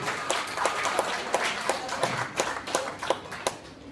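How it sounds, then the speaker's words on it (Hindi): An audience claps loudly in a hall, a steady run of sharp, evenly spaced claps over about four seconds with faint voices beneath. "जरा जोरदार ताली हो जाए उनके लिए"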